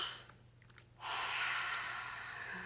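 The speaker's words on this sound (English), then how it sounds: "Everybody take a big breath of oxygen." A person draws a big, deep breath in, a long, close, airy inhale that follows a few small sniffs and faint noises, with no talking.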